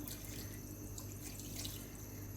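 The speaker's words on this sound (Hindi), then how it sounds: "अब इसमें डालूंगी तकरीबन 2 गिलास पानी" About two glasses of water pour into a pot of beef cooking for shami kabab, a soft continuous splashing trickle.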